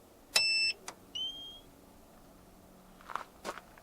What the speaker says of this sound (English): Kind of makes a beep, attempts to go